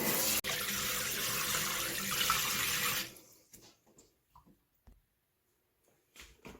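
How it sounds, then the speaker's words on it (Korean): Tap water runs steadily and close over sweet potatoes being washed in a sink, then cuts off, leaving a few faint knocks and handling sounds. "고구마는 물로 한번 씻어 주시고요."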